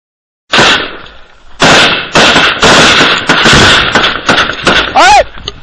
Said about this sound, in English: cover fire! Get some rounds on there!